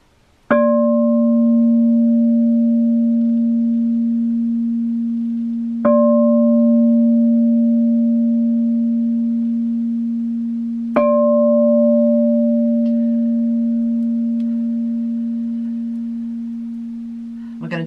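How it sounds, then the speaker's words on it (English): Three struck tones from a crystal singing bowl ring out at even intervals, each a pure, sustained hum with bright overtones that swells and slowly fades before the next strike, close and fairly loud with no talking. "let's just allow the tones of the crystal bowl to come in as well"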